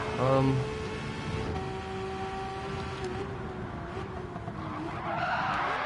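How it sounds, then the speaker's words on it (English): Racing car skidding under the handbrake at Spa-Francorchamps in a racing video game, a sustained tire screech over steady engine drone lasting several seconds, with a voice talking over it. "I think he used the handbrake there to try and stop"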